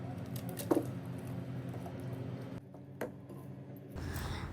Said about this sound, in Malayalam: അപ്പോൾ എന്താ ഓരോ ഫ്രൂട്ട്സ് ഇട്ട് കഴിയുമ്പോഴും ഒന്ന് മിക്സ് ചെയ്ത് കൊടുക്കുക